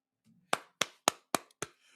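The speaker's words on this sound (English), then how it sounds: "Clapping." Five sharp, close hand claps in an even rhythm, each a crisp crack with a quick decay, heard alone with nothing else around them.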